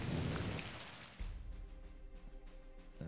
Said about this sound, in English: Meanwhile, we get rain again